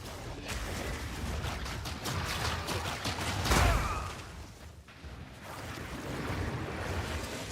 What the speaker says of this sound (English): Oh, it's the tidal waves. The tidal waves freeze.